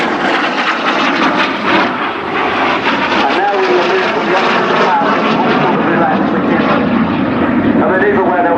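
Folland Gnat jets of the Gnat display team perform opposition passes at an air display, a loud, sustained engine roar with a slowly shifting pitch under a commentator's continuous talk over the public address.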